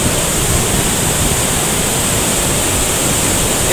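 Steady, loud rush of river water near the Rainbow Bridge in Passu, Hunza Valley, Pakistan, fills the clip, a dense continuous roar with no pauses, close by and unbroken.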